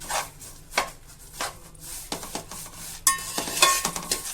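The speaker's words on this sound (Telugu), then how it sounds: "వీటితో పాటు దీన్ని బాగా కలుపుకోవాలండి" A spoon scrapes and stirs a thick laddu mixture in a pan in several distinct, fairly close strokes, with light sizzling between them and no talking.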